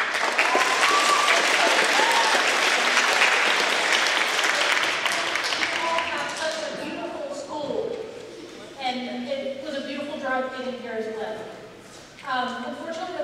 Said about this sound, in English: You guys give her a big round of applause.